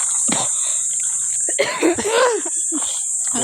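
A couple of short, raspy coughs close by, with brief talk, over a steady high insect-like drone in the background.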